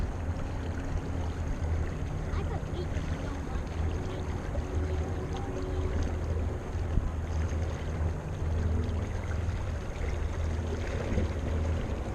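Aluminum 1436 jon boat cruising at about three to four miles per hour on a Minn Kota Endura Max 45 electric trolling motor, giving a steady low hum over water and wind noise without a break.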